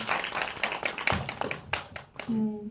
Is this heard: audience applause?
yes